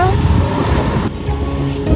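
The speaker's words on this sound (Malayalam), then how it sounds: "ഹൈ വെള്ളം ഒഴുകി പോകുന്നത് രസമുണ്ടല്ലോ" A hill stream in the Ambanad hills rushes past in a loud, continuous roar, close by and mixed with wind buffeting the microphone, with voices talking in the background.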